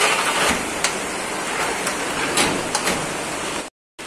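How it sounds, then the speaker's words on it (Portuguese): Steady rain falls throughout at moderate, even loudness with a dense constant patter, cutting out briefly near the end before resuming. "Tava um calor e agora chuva."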